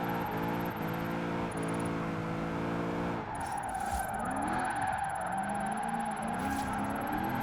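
Car drifting in Forza Horizon 4 on an all-motor drift build, with tires squealing steadily over a revving engine that shifts pitch through gear changes, loud and continuous throughout.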